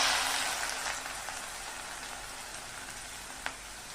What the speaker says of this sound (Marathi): आता आपण जो बटाटा किसून घेतला होता तोही थोडं थोडं करून आपण तेलामध्ये फ्राय करूया